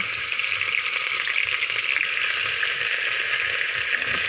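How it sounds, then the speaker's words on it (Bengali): Onion paste fries in hot oil, a steady, dense, close sizzle that continues unbroken with no voices. "তারপরে দিয়ে দিচ্ছি পেঁয়াজ বাটা"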